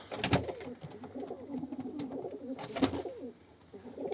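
Two female Milo pigeons coo softly close by in repeated low rolling phrases, with a couple of sharper knocks or wing flutters between them.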